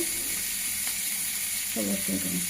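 Fish roe with green chilies fries in a pan with a steady, close sizzling hiss as it is stirred, and a person briefly talks near the end.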